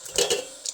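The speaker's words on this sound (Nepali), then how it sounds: "आजको भात त्यही भुट्न लागेको हो।" Cooked rice being fried in a pan: a brief scrape and clatter of utensil against metal with a soft sizzle beneath, close up and short, no talking.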